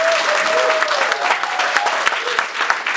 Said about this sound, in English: so he really give me a clap